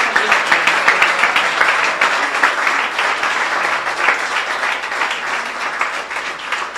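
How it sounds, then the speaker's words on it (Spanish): Church congregation giving a round of applause during a sermon, loud, close, dense clapping with a rapid rhythmic texture that stays steady for several seconds. "Dar un aplauso a Cristo por la vida de Pablo."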